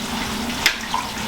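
A wet garment is squeezed out by hand in clean warm rinse water with fabric conditioner, giving a continuous close watery trickle and splash with a brief louder drip burst partway through.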